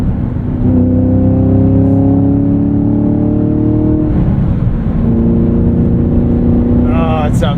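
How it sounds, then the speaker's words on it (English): A V8 American muscle car, a Camaro SS 1LE or Mustang GT, revs hard while accelerating, its loud steady engine tone climbing through the gears with a brief dip at a shift, heard close from inside the cabin. "is let loose with some V8 American muscle sounds"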